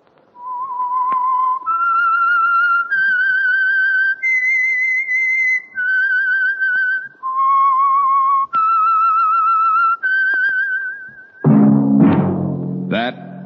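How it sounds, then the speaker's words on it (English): A whistled theme melody opens the radio mystery show The Whistler, a run of clear sustained notes stepping up and down, loud and alone, ending with a brief burst of orchestral music. "That whistle is your signal, the Whistler."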